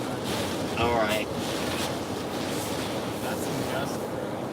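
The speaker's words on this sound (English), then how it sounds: "That's some gust, bro." Gusty wind buffets the microphone outdoors as a broad, steady roar with a stronger surge near the start, while people talk faintly underneath.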